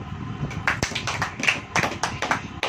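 A church congregation claps hands in a brisk, irregular patter of many claps, steady and fairly close, with no voices over it.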